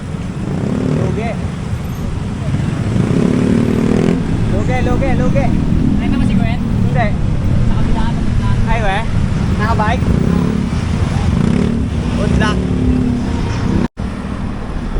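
Heavy road traffic with cars and motorcycles forms a loud, continuous roar and engine rumble close by, with people talking over it throughout.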